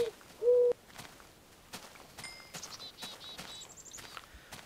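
Owl hooting from the MAtmos ambient sound mod in Minecraft, a single loud close hoot near the start followed by fainter bird-like calls and soft footsteps over a quiet background.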